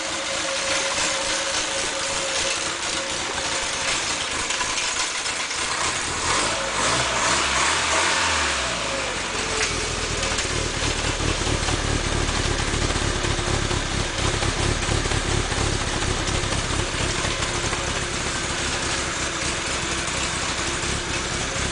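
An MG Midget's 1500cc engine running, heard close at the exhaust pipe as a steady, loud, continuous drone with a brief shift in tone partway through and no talking.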